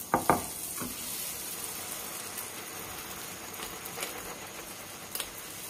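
Achappam batter frying in hot oil, a steady low crackling sizzle with a few sharper pops near the start, close and moderately loud with no voices.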